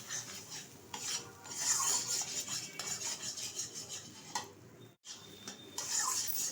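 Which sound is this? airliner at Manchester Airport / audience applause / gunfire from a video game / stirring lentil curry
stirring lentil curry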